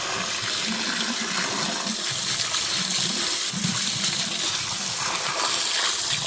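Water pours and gushes into the tank of a home biogas plant, a loud, continuous rushing flow close by with no break and no talking.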